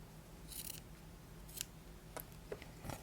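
Scissors snip leftover cotton yarn during crochet finishing on a baguette bag, a few faint, soft cuts spread over a few seconds against a quiet room.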